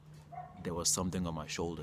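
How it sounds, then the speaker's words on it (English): A dog yips and whines in short bursts close by while a person talks over it. "That's just a dog, if you hear that sound."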